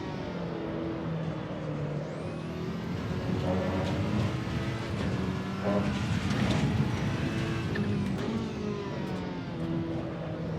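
Ferrari 488 engine racing in the sim game Assetto Corsa Evo, a steady sustained drone with rising and falling revs throughout, someone talking over it.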